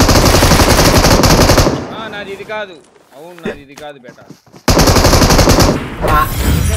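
Video game gunfire rattles in loud, rapid automatic bursts, which pause while voices talk over quieter game sounds, and then the heavy firing resumes.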